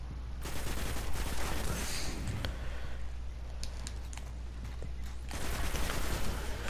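Enemy gunfire in the video game Destiny, a dense crackling run of rapid shots that thins out midway and swells again near the end, moderately loud over a steady low game hum.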